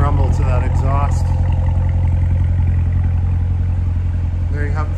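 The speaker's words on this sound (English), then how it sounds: "Nice rumble to that exhaust." Exhaust of a 2017 Chevrolet Corvette Grand Sport 3LT rumbles loudly and steadily at idle from close behind the car, a deep continuous burble with someone talking over it.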